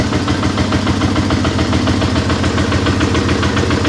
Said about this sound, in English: turn the key on and hit your start button